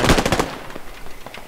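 Rapid automatic gunfire in the game Squad, a loud close burst of several shots in quick succession followed by fainter scattered shots trailing off.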